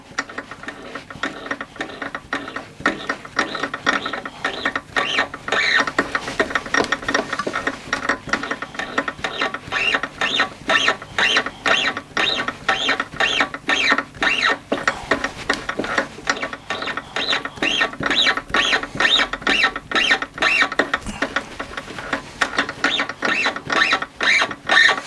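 Workshop lathe turned by hand to cut a thread for an extended fanlight handle, giving a continuous rapid ratcheting click, steady and close, with a constant mechanical rhythm and no talking.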